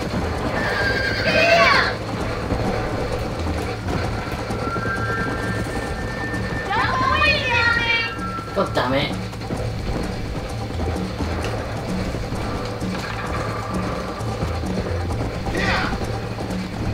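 Horses in the video game Red Dead Redemption give several distinct neighs and whinnies over a low rumbling game background, with clopping hooves and mechanical rattles between them.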